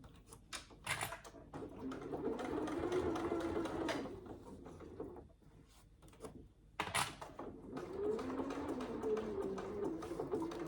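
A sewing machine back-stitching through the layers of a fabric saddle bag, its motor running in steady bursts with a short pause midway, close and fairly loud.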